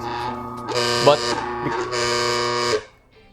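A harsh, buzzing hum with a rattling resonance from a loose panel on a Bentwood Vertical 63 coffee grinder, running in two long bursts with a short dip between, then cutting off; a voice is faintly present.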